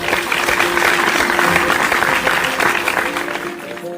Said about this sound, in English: Heather claps her hands.